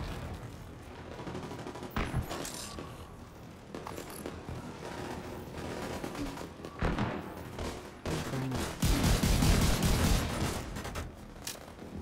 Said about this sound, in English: This sniper turret is firing at random places.